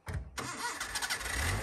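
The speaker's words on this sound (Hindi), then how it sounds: "हमारी गाड़ी अचानक से मिसिंग करना शुरू हो गई" Car engine misfiring, a short close burst as the engine catches, then an uneven, lumpy running note with irregular pulses.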